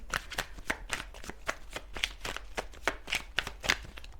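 Tarot cards are shuffled in quick repeated riffles, crisp rustling bursts coming in an uneven rhythm, close up with no talking.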